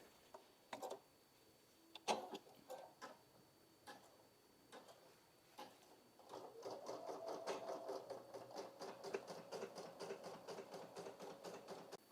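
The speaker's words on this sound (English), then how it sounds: "let's go ahead and embroider that" A Brother SE1900 embroidery machine stitches a design, with a few scattered clicks and taps at first, then a steady, fast mechanical ticking stitch rhythm running continuously at moderate loudness.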